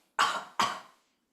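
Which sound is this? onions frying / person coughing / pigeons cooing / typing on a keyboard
person coughing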